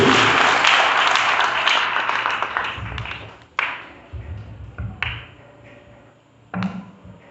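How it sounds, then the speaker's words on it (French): Church congregation at an evangelistic campaign evening service bursting into loud sustained applause and cheering, fading into scattered claps and a few final bursts of clapping. "Nous allons acclamer le Seigneur fortement, plus fort, plus fort, plus fort."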